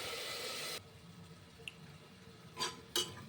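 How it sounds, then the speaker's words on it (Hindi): Water poured into softened tomato masala in a cooking pan gives a brief pouring splash up front, followed by quiet kitchen background and two short faint clinks or drips. "थोड़ा सा डालूँगी पानी।"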